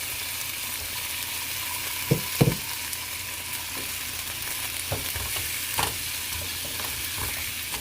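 Apples fry in a pan with a constant loud sizzle, and a few soft knocks and scrapes of a spoon stirring them break through the hiss now and then.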